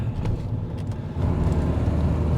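Car driving along Old London Road toward Nailsworth, a steady close engine and tyre rumble from inside the vehicle with road noise and a slight rise in level partway through.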